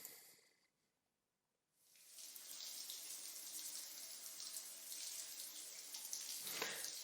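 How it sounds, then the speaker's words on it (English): A running shower in the visual novel Koisuru Natsu no Last Resort begins after a near-silent pause and becomes a steady, broad hiss of spraying water that fills the rest of the scene. No one speaks. "The sound of the running shower echoes through the room"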